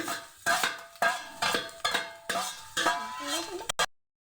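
A spoon stirs egg and turmeric into fried rice in a metal pan, giving about eight sharp rhythmic scrapes and clanks close up, each followed by a short ring, then stopping abruptly.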